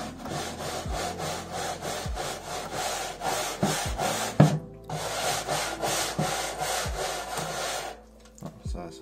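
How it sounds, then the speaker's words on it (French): Small brush scrubbing back and forth on a roof panel of an MK3 car under restoration, a steady rhythmic rasping rub with brief pauses, close and fairly loud, fading out near the end. "si je prends cette petite brosse et que je frotte, c'est censé partir"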